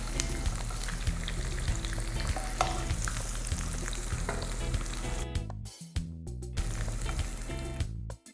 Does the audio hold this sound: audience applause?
no